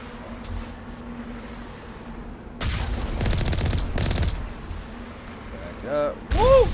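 Gunfire in the video game Mass Effect Legendary Edition comes as rapid bursts of shots over a steady game soundscape, mid-distance and moderately loud, followed by whooshing effects.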